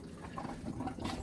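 Pink antifreeze running through motorhome water lines during winterizing, a quiet gurgling, bubbling trickle with small irregular splashes.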